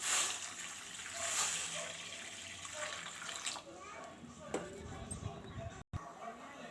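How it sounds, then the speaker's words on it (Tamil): Water pours and splashes steadily into a pan of sugar, fairly quiet, with a few brief clinks and a short break near the end. "அதில் ரெண்டு கிண்ணம் அளவுக்கு தண்ணி ஊற்றிக்கிடுவோம்"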